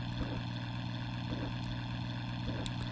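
Steady droning biplane engine in the Amiga flight game Knights of the Sky, a constant buzzing hum with faint periodic pulsing, heard alone at low volume.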